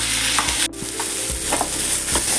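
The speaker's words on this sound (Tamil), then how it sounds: "வெங்காயம் தக்காளி நல்லா வதக்கிக்கிறோம்." Small onions and tomatoes sauté in a pan for a mutton curry gravy, giving a steady close sizzle broken by a few soft scraping stirs.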